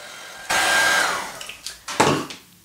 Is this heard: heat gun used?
yes